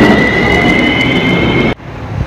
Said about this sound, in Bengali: চলো আমাদের ট্রেন চলে এসেছে